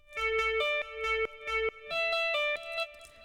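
A bright synthesized guitar preset from the Nexus 2 plugin plays a short rhythmic phrase of repeated chords, each hit ringing out with echoing delay and a reverberant tail.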